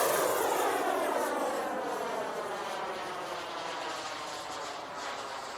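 Remote-controlled model airplane flying at an RC airfield: a steady engine whine passes by with a slowly shifting pitch, fairly distant, gradually fading a little, with no talking.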